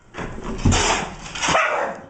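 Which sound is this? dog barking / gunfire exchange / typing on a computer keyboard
dog barking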